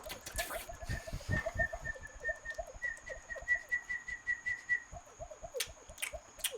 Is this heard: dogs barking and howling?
no